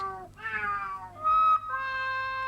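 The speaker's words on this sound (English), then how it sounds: "I think he must have met that cat again." A cat meows close by in a couple of drawn-out, wavering calls, the second one rising and sustained, clear over a quiet indoor background with no talking.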